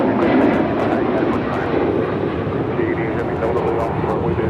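A Delta Boeing 737-900ER taking off at LAX bound for Raleigh-Durham roars as a loud, steady jet engine rush with broadband rumble, while a voice talks over it.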